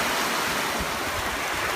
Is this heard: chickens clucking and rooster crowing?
no